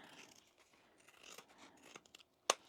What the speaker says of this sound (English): I'm going to baste across the top and just trim that down